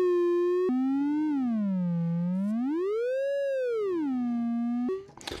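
A single particle voice from an Orbitones Sha# Bang! synth module, one clear sustained electronic tone whose pitch glides smoothly down, up and back, ending in a short noisy burst.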